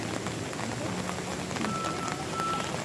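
Steady rain patters onto an open umbrella at a rural tourist spot near the Ciater hot springs in Subang, West Java, a dense even hiss with occasional close drops and a faint tone in the background.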